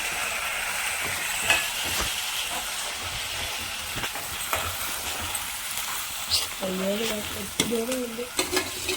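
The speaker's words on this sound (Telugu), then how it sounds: "తర్వాత వచ్చేసి ఎండుమిరపకాయలు వేస్తాను, తర్వాత కరివేపాకు, తర్వాత పచ్చిమిర్చి," Dried red chillies, curry leaves and green chillies frying in oil, a steady close sizzle with scraping stirs and small crackles, while a voice talks over the later part.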